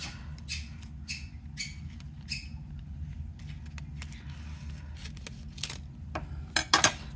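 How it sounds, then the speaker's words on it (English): Scissors cut straight across a sheet of illusion craft film from a crafting kit, giving a series of crisp snips and rustles up close, with a louder crinkling burst at the end and no talking. "So I'm just gonna cut this straight across."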